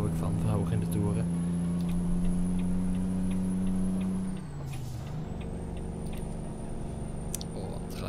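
A truck engine in Euro Truck Simulator 2 drones at high revs with a steady tone that drops midway, then settles into a lower hum.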